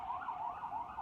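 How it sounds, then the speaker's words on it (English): A police car siren sounds outside, a wavering wail rising and falling in quick cycles, moderately faint, with no talk over it. "Forgive the cop sirens, I live in the hood."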